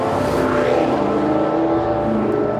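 A Maserati GranTurismo sports car engine runs with a loud, steady, rich droning tone, close and continuous, without any talk over it.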